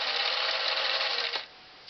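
A Singer 457 Stylist sewing machine runs a wide zigzag stitch in a steady fast whir for just over a second, then stops abruptly with a faint click after.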